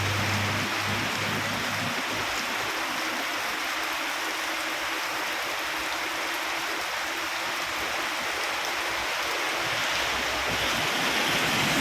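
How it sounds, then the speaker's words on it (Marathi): A continuous, even wash of heavy evening rain on a road hisses without pause, loud and close, with no voices. "जोरदार पाऊस धोकी परिसरात"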